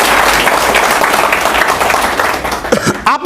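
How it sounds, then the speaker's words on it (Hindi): A seated audience breaks into loud, sustained clapping at a motivational business event, a dense wall of applause that fades slightly near the end as a few voices rise. "तो एक बार अपने लिए जोरदार ताली बजाएं"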